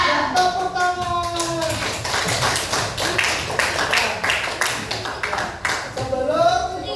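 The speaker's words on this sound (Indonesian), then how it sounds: "Tepuk tangan." Children clap their hands in a classroom, a burst of sharp, fairly rhythmic claps lasting several seconds, with young voices chanting over the start and the end.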